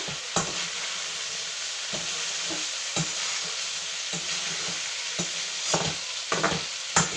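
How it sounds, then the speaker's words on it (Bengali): Soybean curry seasoned with chaat masala is stirred in a pan, a continuous sizzle punctuated by regular spoon scrapes and knocks roughly every second, close and clear with no talking. "এখন অল্প পরিমাণে চাট মশলা দিয়ে ভালোভাবে নেড়ে নিচ্ছি।"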